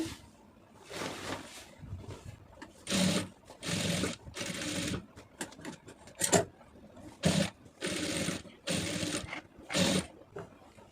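A sewing machine stitching a churidar runs in several close, whirring bursts of a few seconds each, separated by brief pauses while the fabric is repositioned.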